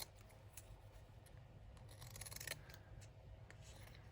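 Scissors trimming gift wrap paper, a quiet close series of short snipping cuts with soft paper rustle, faint and without talking.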